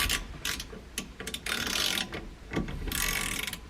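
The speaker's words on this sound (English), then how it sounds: "So we'll continue by tightening this little spacer here down." A ratchet wrench tightening a small spacer bolt on a classic muscle car, giving short bursts of rapid close-up clicking separated by brief pauses, with no talk.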